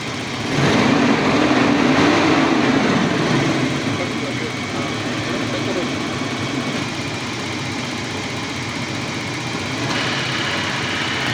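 A Toyota 7K engine with the air conditioning on and a low-power hesitation fault runs at a steady, close idle, its even hum briefly louder near the start.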